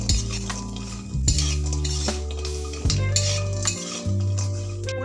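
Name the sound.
frying bori lentil dumplings in oil in a wok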